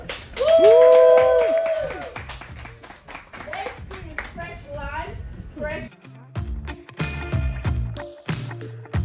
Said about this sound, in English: a round of applause for Pande and Mr.